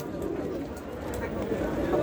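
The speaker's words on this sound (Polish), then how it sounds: "Przepiękne gołębie." Soft, low cooing of Porsche-line racing pigeons murmurs steadily against a faint background hum at a pigeon show in Katowice, with indistinct voices nearby.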